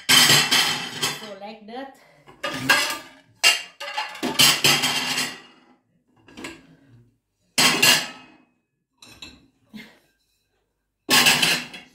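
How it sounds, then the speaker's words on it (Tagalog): Dinner plates set one by one into a dishwasher rack, giving several close ceramic clinks and clatters between pauses, under a woman's nearby chatting. "Ang mga plato ilagay ko dito mga kamumoys."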